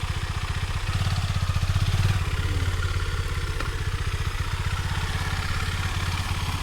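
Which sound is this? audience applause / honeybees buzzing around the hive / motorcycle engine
motorcycle engine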